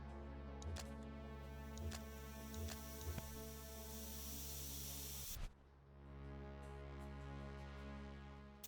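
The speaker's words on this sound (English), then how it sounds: "Spray can bandits in action." Vandals spraying graffiti with aerosol cans in the police video game The Precinct, a steady broadband hiss running for about five seconds under faint engine hum and a few ticks, then cutting off to a quieter background drone.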